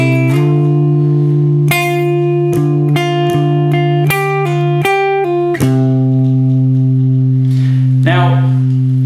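Guitar playing a verse variation, clean plucked notes and double-stops struck one after another in a steady rhythm, close and loud, each ringing until the next, with no talking.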